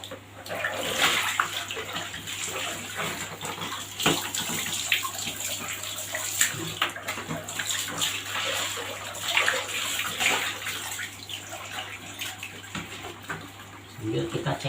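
Water pours and splashes continuously onto a motorcycle helmet being rinsed nearby, with brief changes in flow as it is moved around; a voice talks faintly underneath.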